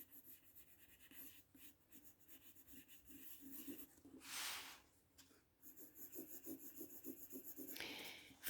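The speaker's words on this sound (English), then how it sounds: "Look at how my pencil's sketching." A pencil sketches light, loose strokes on paper during a drawing warm-up of ellipses, giving soft, continuous close rubbing and scratching with a brief louder scrape near the middle.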